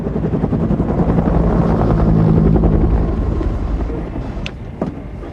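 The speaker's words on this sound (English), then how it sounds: "Tell me where you are from the sound of my rotor blades." Loud, close UH-1 Huey helicopter with the steady thudding chop of its rotor blades and turbine whine, fading slightly toward the end.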